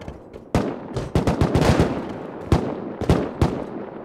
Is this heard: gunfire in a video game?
yes